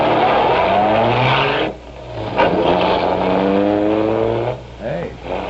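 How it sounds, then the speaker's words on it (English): A hopped-up car revs and drives off in a loud, harmonic engine roar that rises in pitch, dips briefly, then climbs again over a couple of gear changes, close by and alone. "that kid drives one of those hopped-up cars"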